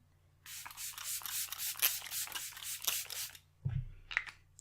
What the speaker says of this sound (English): So I'm going to go in again with the setting spray.